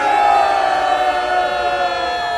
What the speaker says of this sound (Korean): 함성 5초 시작!